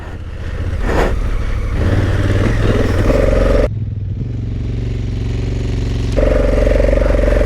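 A new motorcycle rides in first gear, its engine a loud, close, rough throbbing drone that shifts pitch partway through and rises again toward the end.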